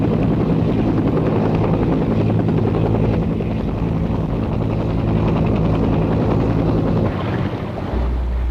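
Military assault helicopters of the Vietnam War era, bound for the Vietnamese Air Force: a loud, continuous rotor thudding and engine roar with heavy wind buffeting, close and unbroken throughout.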